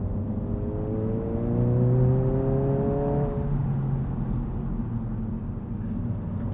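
A 2022 Honda Civic Si sedan's engine revs up steadily while driving, its rising tone climbing then easing off into a steady cruising drone, close and alone without talk.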